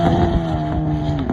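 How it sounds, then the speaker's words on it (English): Rotary-engine racing motorcycle with its rear wheel spinning without traction, a steady droning engine whine with a rising pitch that runs continuously and loudly, close by, no talking. "So Brian, it's spinning because it can't get traction."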